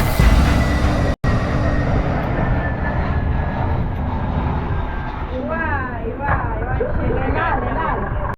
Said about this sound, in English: I can never get tired of watching planes land.